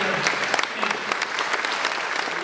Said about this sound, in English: so hands on applause